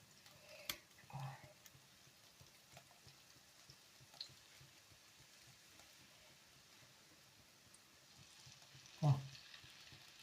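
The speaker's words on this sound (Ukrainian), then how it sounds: "Буду смажити потихенько, помаленько, так, щоб вони е, просмажились." Chicken cutlets fry gently in a pan over low heat, giving a faint, steady sizzle with occasional clinks and scrapes, while someone talks quietly over it.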